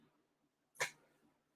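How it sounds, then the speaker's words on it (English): A single short dog bark or yelp in a quiet indoor room, loud and close, occurring once and then fading into silence. "And cue the dog"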